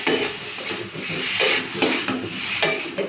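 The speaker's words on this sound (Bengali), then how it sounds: "তো এখন যা যা মশলা দেওয়ার দিয়ে দিই, তারপরে কষে নেবো ভালো করে।" Spices stirring and frying in oil in a pan for a rohu fish curry, with steady scraping and clinking of a spoon against the metal and a soft sizzle underneath, loud and close.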